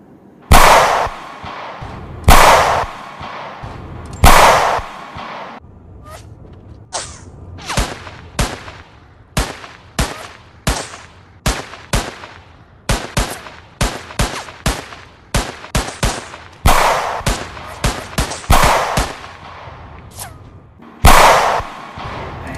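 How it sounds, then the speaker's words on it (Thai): Gunfire in a video game: loud, sharp single shots and quick clusters ring out close by, spaced irregularly over about twenty seconds. "ยิงเลยนะ"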